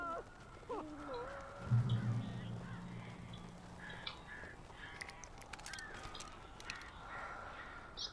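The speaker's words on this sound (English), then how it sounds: "These birds are weird." Crows cawing in the Alan Wake video game, several harsh caws near the start followed by a louder honking call, then scattered fainter bird and game sounds over a quiet background.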